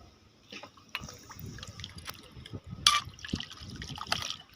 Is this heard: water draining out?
yes